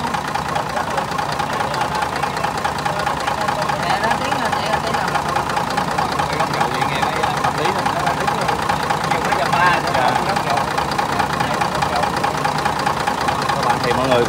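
A Hyundai 47-seat bus engine idles after repair with a steady mid-range running sound and a faint rhythmic ticking. People talk over the engine throughout.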